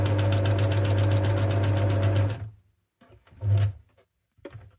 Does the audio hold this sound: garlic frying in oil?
no